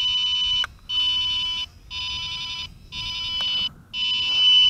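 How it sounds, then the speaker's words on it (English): A WLToys V686G FPV drone beeps in headless mode: four long, shrill electronic tones in an even on-off pattern, loud and close, with faint outdoor noise in the gaps. "that's the beep of the headless mode"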